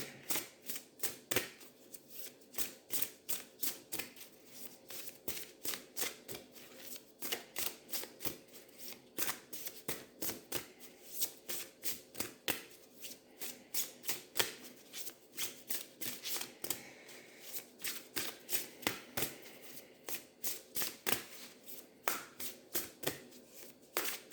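Tarot cards being shuffled by hand, a steady run of crisp riffling clicks and flutters that repeat in quick bursts throughout, close and clear with no talk.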